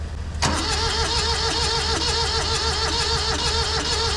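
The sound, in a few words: cheap old tractor engine cranking and starting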